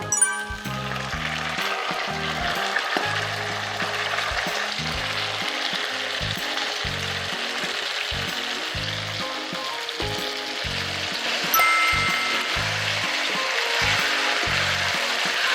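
Steady oily sizzling in a hot pan with rhythmic scraping and tossing as pasta is stirred in garlic oil until the water cooks off, continuous and close.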